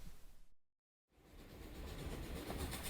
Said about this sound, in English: an update from the Durango Silverton Narrow Gauge Train